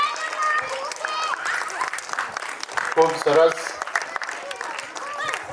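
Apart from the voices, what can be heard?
audience applauding the performing team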